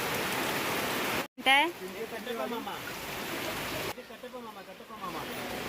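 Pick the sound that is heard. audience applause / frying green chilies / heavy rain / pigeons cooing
heavy rain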